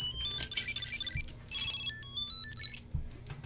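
A Tile Bluetooth tracker plays its Classic Call ringtone, a loud, bright electronic melody of quick repeated chirping notes in two bursts with a short gap between them, heard close up and alone.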